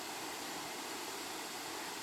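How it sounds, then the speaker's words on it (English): A small waterfall cascades along a portage trail between Sawmill and Shark Lake, giving a steady, faint, unbroken hiss of falling water with no voices. "Nice little cascade as you go through the portage between Sawmill and Shark Lake."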